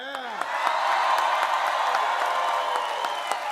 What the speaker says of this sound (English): it's not every day a Lions fan gets that kind of applause in Green Bay